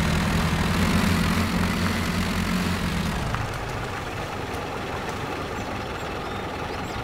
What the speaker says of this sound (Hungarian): Annyira jó a hangja ennek a